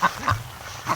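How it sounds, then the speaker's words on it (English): Ducks quacking as they make their way down toward a swamp at dusk, three short nasal quacks spaced apart and heard fairly close in a quiet outdoor setting. "look at the ducks. They're working their way"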